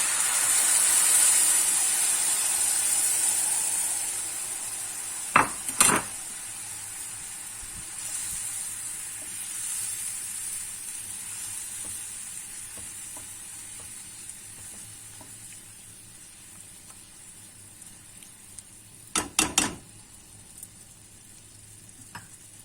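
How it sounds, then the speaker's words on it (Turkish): Syrup poured into a hot halva pan sizzles with a loud, bright hiss that slowly settles, broken by two short clattering bursts of stirring, with no talking. "ve içerisine hazırlamış olduğumuz şerbeti ilave edelim."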